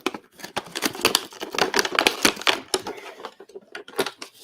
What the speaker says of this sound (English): So let's rip this bad boy open.